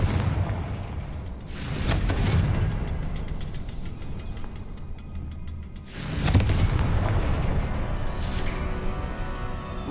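A Confringo blasting spell in a video game explodes twice, each a loud booming burst with a crackling tail, the first around two seconds in and a sharper one near six seconds, over a steady rumbling game background.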